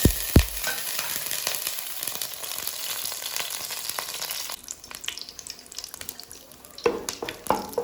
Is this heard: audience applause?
no